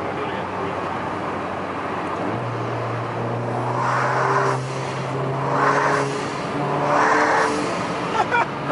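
An Alfa Romeo Giulia fitted with a new aftermarket air intake revs hard through upshifts, its engine note surging and pulling in three strong bursts with a steady drone underneath, heard from close by inside the car.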